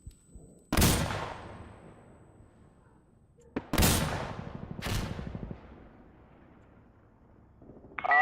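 Artillery barrage in the game Death Stranding, several heavy booming blasts landing a second or so apart, each with a long rumbling decay, loud and nearby with a faint background hum.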